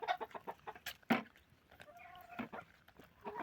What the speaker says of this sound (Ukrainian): І даю курам тепер.